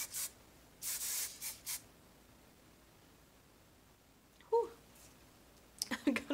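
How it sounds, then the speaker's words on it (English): Shine and texture hair spray hisses from an aerosol can in a few short bursts near the start, followed by quiet and then someone talking softly. "So I say we spray a little bit of this in my hair."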